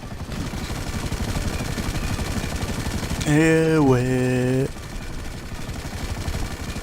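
Helicopter in a French airplane survival video game, a steady rotor drone under a gunfire-like clatter, with a brief louder tonal whine midway and someone speaking briefly.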